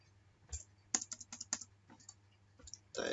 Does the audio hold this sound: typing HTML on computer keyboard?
yes